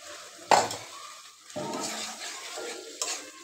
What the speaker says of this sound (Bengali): ডাইকা দিয়ে ভালো মতন কষাই নিব।